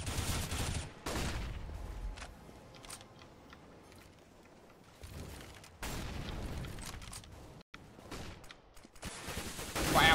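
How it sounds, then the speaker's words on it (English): Rifle fire in a CS:GO firefight on the Overpass map, a professional match, with bursts of rapid gunfire in several clusters separated by quieter stretches, moderately loud without talk. "Firefight!"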